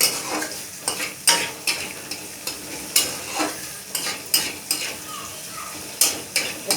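Chopped onions fry in hot oil seasoned with cumin seeds and bay leaf while a spatula stirs and scrapes the pan in sharp, regular strokes over a constant soft sizzle, with no voices.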